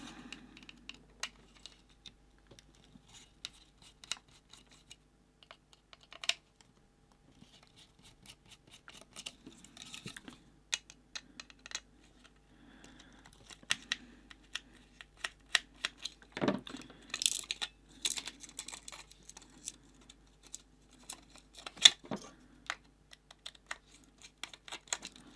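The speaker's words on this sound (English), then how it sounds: "So just remove these little screws in here." Small screws being removed from the plastic case of a Sesoo glass touch switch with radio remote, heard as faint, irregular metallic clicks, taps and light scrapes of a screwdriver, close by and without talk.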